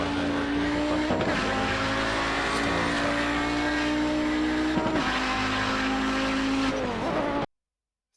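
An Audi 90 GTO race car lapping Spa in a racing video game, its engine droning loud and steady with pitch shifts at gear changes and brief tire squeal, running continuously before ending suddenly.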